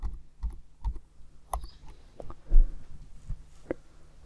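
Computer keyboard keys pressed for a Ctrl+R shortcut in CorelDRAW, a string of separate clicky taps spaced irregularly, close and fairly crisp, with no talking.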